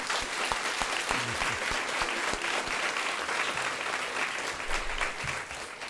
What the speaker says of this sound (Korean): 내가 박수 쳐줘.